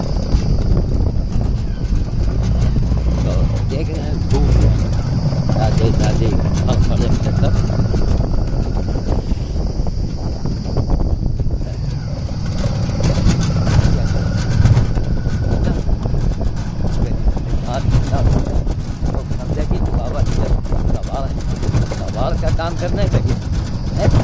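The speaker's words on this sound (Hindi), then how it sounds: "देखा एक गाड़ी स्टार्ट हो गई है" An old car engine starts and keeps running, a steady low rumble and broadband mechanical noise filling the whole stretch at close range, with voices talking over it in places.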